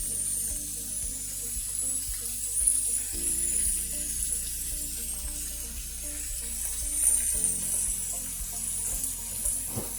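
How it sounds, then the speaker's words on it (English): Shrimp sizzles on a home hibachi griddle with a steady, close frying hiss and faint stirring, carrying on without pause throughout. "once you put the shrimp in"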